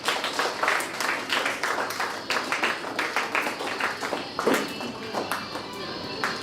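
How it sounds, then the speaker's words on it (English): A modest round of clapping from the audience at a student startup pitch event, fairly sparse and uneven, with individual claps standing out. "Please give a once big round of applause."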